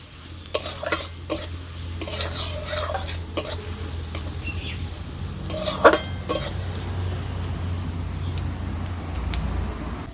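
Chopped onion sizzles and fries in a pan while a utensil stirs it, sharp scraping clicks and clatters rising over a steady close frying hiss, with no voices.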